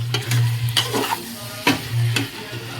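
Fat and potatoes fry in a pot with a steady sizzle, while a spoon stirs them in three or four distinct scraping bursts, close and fairly loud.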